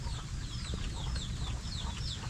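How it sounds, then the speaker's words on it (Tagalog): Chicks peep in a dense, continuous chorus of rapid high chirps among brooding hens on a farm, with low clucking underneath, close and steady throughout. "Daming sisiw. Puro sisiw. May mga naglilimlim"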